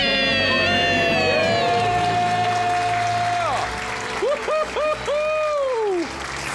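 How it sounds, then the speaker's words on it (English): A family's debt-free scream during a radio call-in show: voices shout together with long sustained yells, followed by applause and cheering from a studio crowd. "Let's hear a great debt-free scream."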